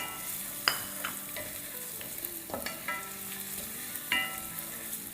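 Whole spices with garlic, dried red chillies and curry leaves sautéing in oil for moong dal, then fried onions stirred in: steady soft sizzle with scattered utensil scrapes and clinks, close and moderately quiet, no talking.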